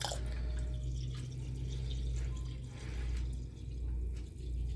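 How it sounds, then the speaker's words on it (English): Water trickling and dripping into a large Winnie the Pooh Christmas snow globe during a refill, soft close drips and a light pour over a steady low hum. "I'm going to put some more water in though, because this is a big globe."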